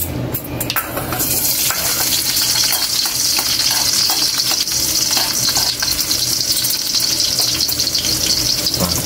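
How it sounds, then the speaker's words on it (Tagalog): Garlic sautéing in hot oil for paksiw na bangus, a loud continuous sizzle with fine crackling, close up, with occasional scraping stirs and no voices. "Gigisa mo natin yung mga sangkap natin. Bawang muna unahin natin."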